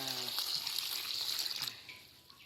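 Water pours steadily into a cooking pot as mushrooms are readied for boiling, a broad continuous rushing hiss that runs throughout and tapers slightly near the end.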